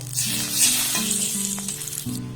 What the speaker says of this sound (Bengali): বাটারটাকে একটু মেল্ট করে নেব